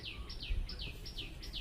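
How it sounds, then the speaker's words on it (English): Faint bird chirps repeat in a steady series of quick, high tweets outdoors, with a soft low rumble underneath. "I heard some birds in the background"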